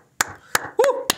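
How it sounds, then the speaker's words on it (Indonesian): Four sharp hand claps ring out at an uneven pace, close and fairly loud, with a brief spoken sound between the third and fourth. "Kita tepuk tangan dulu buat kalian ya."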